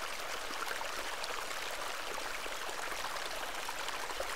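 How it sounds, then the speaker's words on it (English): A small moorland beck in the point-and-click game Hob's Barrow, flowing with a steady, even rush of running water, soft and continuous with no voices. "This is a lovely little beck."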